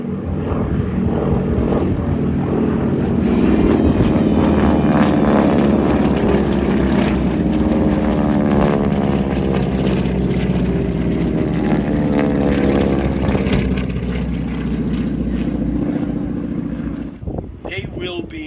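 A WWII propeller warbird roars past on a strafing run at an airshow, a loud sustained engine drone that swells and stays strong before fading, with an announcer talking over it.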